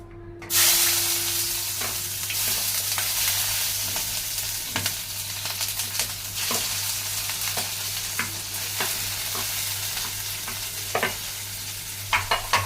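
Chopped onions and green chillies sizzle steadily in hot oil while cooking a jackfruit seed curry, a continuous close frying hiss with scattered sharp crackles and occasional utensil scrapes and stirs.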